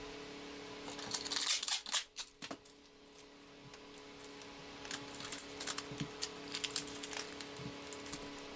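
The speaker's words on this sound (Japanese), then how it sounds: "幅広の透明テープでぐるぐる巻いて" Wide clear tape is wound round and round a closed silicone mold for a garage-kit figure, giving scattered crackles and sticky peeling rasps, with a denser patch of close rustling early on and lighter ticks later.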